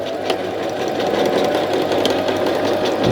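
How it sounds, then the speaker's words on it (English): Sewing machine running a reverse back stitch while joining fabric for a hair scrunchie, a steady close mechanical whirring with a fast, even needle rattle throughout. "This is called reverse or back stitch."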